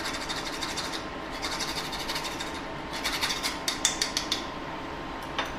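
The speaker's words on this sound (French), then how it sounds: "je vais y râper un petit peu de muscade" Nutmeg grated for a potato gratin dauphinois makes a quiet, rapid scraping rasp. Short rhythmic strokes come and go over low kitchen background noise.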